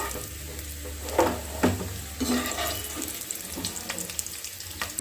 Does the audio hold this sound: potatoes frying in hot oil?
yes